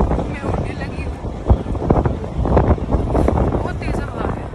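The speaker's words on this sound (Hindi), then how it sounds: "बहुत तेज़ हवा चल रही है, मैं उड़ने लगी हूँ" Strong outdoor wind buffeting the microphone on a cold, blustery day in Germany, a loud continuous low rumble with gusty surges, while someone talks over it.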